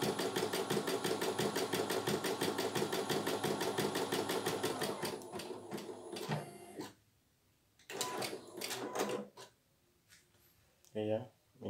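A CNY E900 embroidery machine stitches in a fast, even mechanical chatter, loud and close, for several seconds, then stops and restarts in short bursts with quiet gaps; a person talks at points over the machine.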